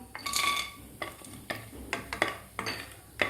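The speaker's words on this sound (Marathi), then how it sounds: "आता 1 मिनिटभर आपल्याला हे परतून घ्यायचे आहेत खडे मसाले।" Whole spices sauté in ghee with cashews and almonds, as a spoon scrapes and taps the pan in irregular close strokes over a soft sizzle, with no talk.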